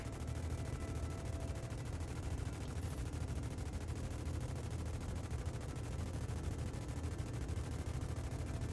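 Anvil Valkyrie gun turret in Star Citizen firing continuously, a dense, unbroken rattle of rapid rounds at a fairly low, even level, with no talking.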